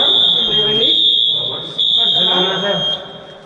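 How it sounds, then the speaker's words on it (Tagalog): A Novec fire suppression system's pre-alarm buzzer sounds a loud, steady, high-pitched electronic tone that holds throughout, while people talk over it. "Ito, so mayroon na siyang pre-alarm, pre-release."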